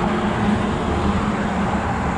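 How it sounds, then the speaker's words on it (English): Steady road traffic roars beside a spillway creek, a continuous broadband wash of passing vehicles that stays close and fairly loud throughout, with no voices. "It's a little noisy, you'll just have to bear with the traffic."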